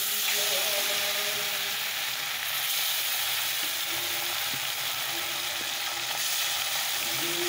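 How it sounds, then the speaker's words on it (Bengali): Fish coated in salt and turmeric sizzles steadily in hot oil, a dense continuous crackle and hiss with faint clicks underneath, close and even throughout with no talking. "মাছগুলো দিয়ে লবণ হলুদ মাখানো হয়ে গেছে, করে তেলও দিয়ে দিয়েছি, তেলটা গরম হয়ে গেছে। চলো মাছগুলোকে এবার ছেড়ে দিই।"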